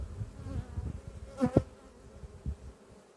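Honey bees buzzing at an eight-frame hive in an apiary, a faint, steady hum with one brief louder burst as a bee passes close.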